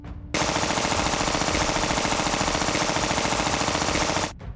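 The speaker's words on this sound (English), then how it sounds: "When I first attempted the machine gun sound, I used a loop that sounded like this." Rapid, relentless video game machine gun fire loops steadily for several seconds, loud and dense with an even, mechanical rhythm, then cuts off abruptly.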